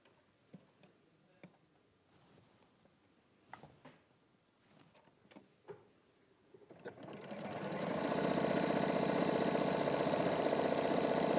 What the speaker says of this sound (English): And then you're just going to sew that.